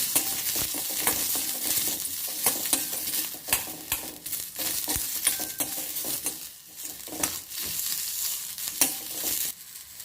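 Rough-cut medium onion being sautéed in a pan for vallarai keerai (brahmi) chutney, with steady frying sizzle and repeated clacks of a stirring spoon against the pan, close and alone with no talk.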